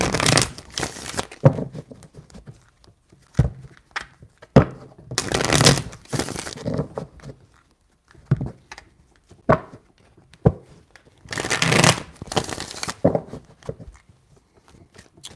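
Tarot cards are shuffled in three separate bursts of riffling and slapping, each lasting a second or two, with quieter handling taps and rustles between them, close and dry.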